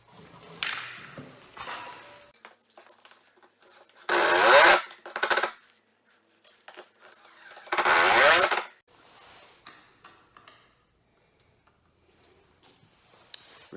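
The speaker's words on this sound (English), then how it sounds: "we'll now use some number 10 screws, wood screws, to screw it into the stud" A power drill drives number 10 wood screws into a wall stud, giving two loud, close bursts of whirring with quieter handling noises between them.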